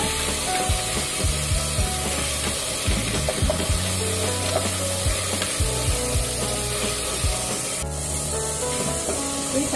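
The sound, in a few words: tomatoes and green chillies sautéing in hot oil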